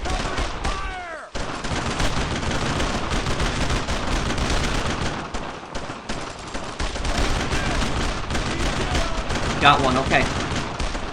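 Dense gunfire from the World War II shooter Brothers In Arms: Road to Hill 30, continuous rifle and machine-gun volleys with explosions, loud and sustained, while soldiers shout over the battle.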